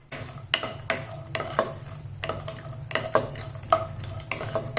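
Cashews lightly roasting in a pan for sago and jaggery halwa, soft sizzle under a series of regular spoon scrapes and stirring strokes, about one per half second, close and clear.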